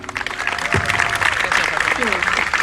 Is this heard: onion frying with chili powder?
no